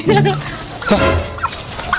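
Chickens cluck and squawk close by in a short burst of fowl calls, mixed with a little background voice, during a Betawi comedy scene about selling chickens.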